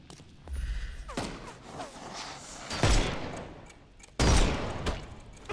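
Gunshots in a Sherlock Holmes video game: a few sharp, loud blasts with heavy low thumps, separated by stretches of quieter background game noise.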